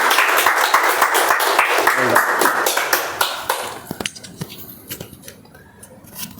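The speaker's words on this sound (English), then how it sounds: "Let us do a big round of applause to Toastmaster Whitefield." Audience applause at a Toastmasters club meeting: dense clapping for a few seconds that thins out into sparse individual claps and then fades to near quiet.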